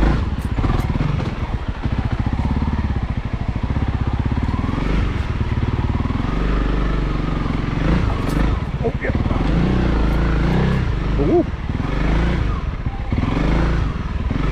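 Honda CRF300L motorcycle ridden off-road in winter, engine droning and surging near the mic with clattering and bumps, someone talking over the ride.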